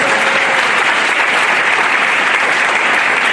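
Church audience at a pastor-of-the-year award ceremony bursting into loud, dense, continuous applause, close and steady throughout with no pauses.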